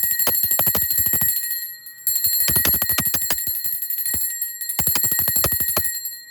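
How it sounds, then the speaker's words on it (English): Bells ring in three bright, rapid bursts of metallic strikes with sustained high ringing tones, loud and close, separated by short pauses, with no talking. "That's why we ring bells."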